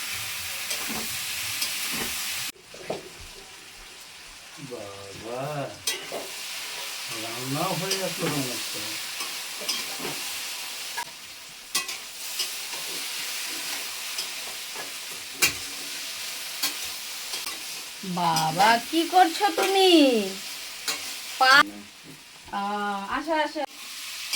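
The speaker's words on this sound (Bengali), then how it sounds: "এবার এটাকে নাড়বো তা ভাজবো" Spices with ginger and dried red chillies frying and being stirred in a pan, a constant sizzle with scraping stirring strokes, while a person's voice is heard intermittently over it.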